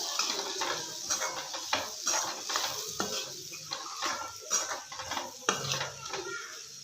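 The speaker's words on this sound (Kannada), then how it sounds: "ಇವಾಗ ಶೇಂಗಾ ಪುಡಿ ಹಾಕ್ಕೊಳ್ಳೋಣ. ಚೆನ್ನಾಗಿ ಮಿಕ್ಸ್ ಮಾಡ್ಕೊಳ್ಳೋಣ." Capsicum curry with peanut powder stirred in a pan, with steady scraping and clinking of a utensil against the metal and a soft sizzle underneath, close and continuous.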